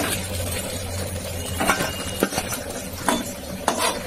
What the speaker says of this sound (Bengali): ব্রাউন করে দুটো সাইডে ভেজে নিই।